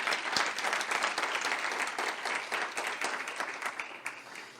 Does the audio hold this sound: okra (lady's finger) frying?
no